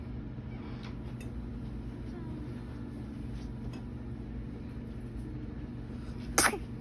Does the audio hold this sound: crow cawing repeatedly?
no